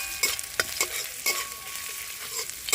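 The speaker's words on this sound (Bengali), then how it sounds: "এবার দিয়ে দেবো রসুন কুচি, আদা কুচি, এগুলোকেও হালকা একটু ভেজে নেব।" Chopped garlic and ginger fry lightly in hot oil for a chicken stew, a steady soft sizzle broken by several sharp scraping stirs of a spatula in the pan, close up with no talk.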